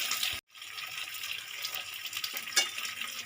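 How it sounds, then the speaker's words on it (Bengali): Chupri aloo (wild yam) pieces fry in hot oil with a steady bright sizzle and occasional stirring scrapes, broken by a brief silent gap near the start. "এই আলুটা ভালো করে ভাজতে হবে"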